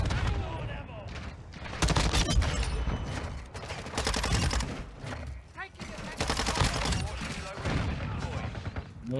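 Sustained automatic gunfire from a 556 Icarus light machine gun in Call of Duty MW2 rattles in repeated loud bursts throughout, with short pauses between volleys and a player talking over the shooting.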